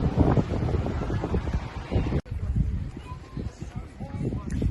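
Wind blowing across a beach on Koh Larn island, a steady broadband rush buffeting the microphone throughout, with a brief dropout in the middle.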